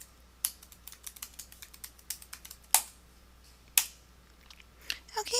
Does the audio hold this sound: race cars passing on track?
no